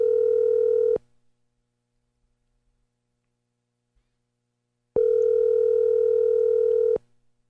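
An outgoing telephone call from a radio talk show gives two steady electronic tones. The first lasts about a second, then comes a long silence, then a second tone of about two seconds, clear and alone with no talking.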